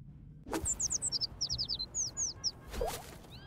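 Birds in the video game Little Kitty Big City give a quick run of bright, high chirps and tweets, close and clear, broken by a couple of soft thumps.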